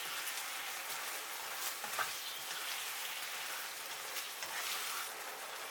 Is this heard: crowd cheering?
no